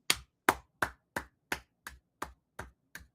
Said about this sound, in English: There's golf claps and then there's Amish claps.